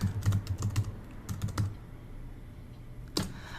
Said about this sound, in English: I can't talk and type at the same time.